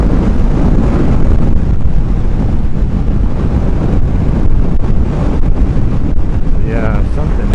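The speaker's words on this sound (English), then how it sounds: "The wind, that was just the wind just friggin' pushed me over." Loud, constant wind buffeting the microphone of a rider on a Honda CBR500R motorcycle, a heavy roaring rumble that never lets up for the whole stretch.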